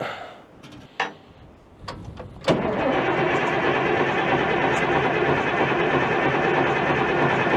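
A Cat 977 loader's engine cranked with a jump pack: a few sharp clicks and knocks, then a sudden loud, sustained broadband roar of the heavy diesel cranking, continuous and close.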